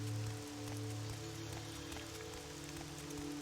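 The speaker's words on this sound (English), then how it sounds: "Just soft rain. On a very, very wet ground." Soft rain falls steadily on very wet ground in the Morrowind game world, a gentle continuous patter with a low steady hum underneath and no thunder.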